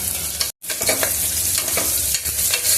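Onion pieces and green chilli frying in a pan for alu kurma, a steady loud sizzle with stirring scrapes throughout and a brief dropout near the start.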